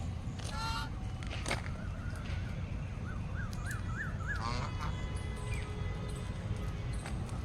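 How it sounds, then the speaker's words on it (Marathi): Ducks at a pond give a short run of rising honking calls near the middle, over a steady wash of outdoor background noise. "इथं खूप छान बदक आहेत तुम्हाला दाखवते मी"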